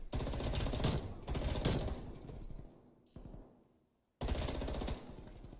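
Rapid automatic gunfire from the FFAR rifle in Call of Duty, loud, dense bursts repeating in several long strings, with a short pause and a fading stretch before another burst.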